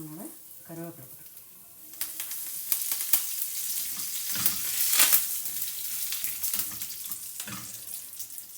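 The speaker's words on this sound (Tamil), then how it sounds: "இப்போ வந்து கடுகு உளுத்தம்பருப்பு எல்லாமே நல்லா சிவப்பாக பொரிஞ்சிடுது" Mustard seeds, urad dal and curry leaves crackle and sizzle in hot oil in a pan, a steady close frying hiss that swells midway, with brief bits of background sound.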